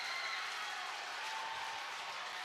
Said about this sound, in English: The loudest reaction from the Cougar crowd on a point win to this point.